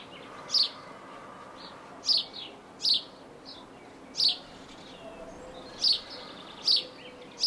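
Small birds chirp outdoors in short, bright bursts spaced a second or two apart, about six calls over a steady soft background hiss, moderately distant and fairly faint.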